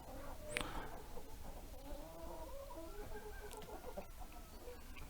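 Jersey Giant chickens, a flock about ten months old, cluck and murmur steadily at close range, with a brief sharper squawk early on, over a low background hum and no speech.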